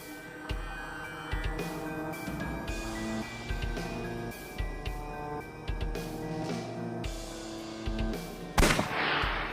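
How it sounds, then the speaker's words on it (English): A gun fires repeatedly in a video game, sounding as short punchy bursts spaced through a layered musical and ambient game soundtrack, with no voices. "I'll try shooting it."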